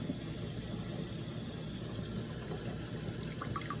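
Hot water pours steadily from a tap while foam is being removed from a JT frame, a continuous low rushing flow, fairly quiet and unbroken, with a few faint light clinks near the end.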